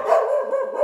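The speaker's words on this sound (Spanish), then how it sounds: "un perro ladraba a un gato" A single dog barks up close in short, loud yips that rise and fall with a slightly whining, strained tone, heard alone without any voices.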